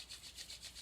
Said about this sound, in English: Go ahead and rub the palms together.